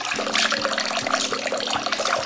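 Water running from a tap in an outdoor dirty kitchen in the Philippines, a steady close hiss and splash lasting throughout with no talk.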